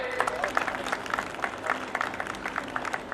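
An audience at an awards ceremony applauds steadily, a dense patter of many hands clapping at moderate distance, fairly even throughout.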